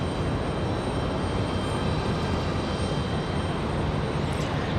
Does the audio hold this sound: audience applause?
no